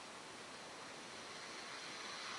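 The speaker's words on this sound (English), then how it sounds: "How in the fuck am I hearing running water through this dude's microphone?" Running water comes through another player's microphone during an online Ultimate Marvel vs. Capcom 3 match, a steady, broadband hiss like a faucet or stream that holds at an even, faint level throughout, with no voices.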